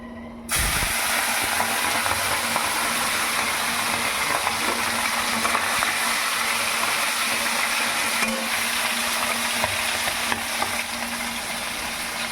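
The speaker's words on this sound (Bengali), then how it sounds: "এই মাছগুলোকে নুন হলুদ দিয়ে মেখে একটু ভেজে নেব" Kekle fish pieces rubbed with salt and turmeric fry in hot oil in a pan, giving a loud, continuous sizzle and hiss that starts abruptly and stays steady throughout.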